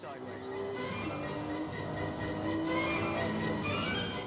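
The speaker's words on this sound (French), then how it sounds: "On peut voir la NSX se tortiller et glisser en direction du premier virage" A Honda NSX-R squirms and slides on a wet race track, its engine note rising and wavering steadily, while a narrator speaks French over the car throughout.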